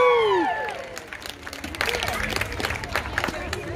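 Crowd at a sea lion show in a safari park, opening with a rising whistle-like tone, then breaking into mixed cheering, clapping and excited chatter from a large audience, moderately loud and building toward the end.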